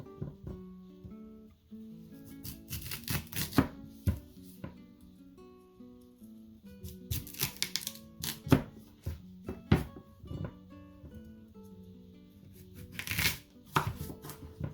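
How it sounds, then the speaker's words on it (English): A knife cuts through raw, uncooked sweet potatoes in uneven bursts of chopping and cracking strikes on a board, with pauses between clusters, under a low background hum. "It's not so easy cutting sweet potatoes when they're not cooked."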